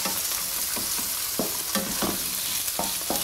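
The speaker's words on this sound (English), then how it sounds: "And yep, she went right into the sizzle." Seafood sizzles and fries steadily in a hot oiled pan over a high-to-medium flame, with a constant close hiss broken by repeated soft scraping taps as the pieces are stirred, no talk.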